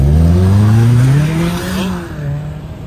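A car engine revs hard and pulls away close by at the start of a race, a loud rising roar that eases off and settles into a steady drone.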